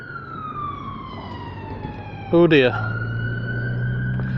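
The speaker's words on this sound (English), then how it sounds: "That was a fast response ambulance." An ambulance siren wails past in long sweeping tones, abruptly jumping to a louder, different pattern before settling; someone briefly speaks over it.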